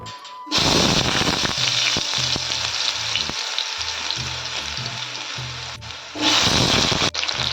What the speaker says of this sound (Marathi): त्यात टाकायचं आपण चिरलेला बटाटा घेतलाय थोडं तेल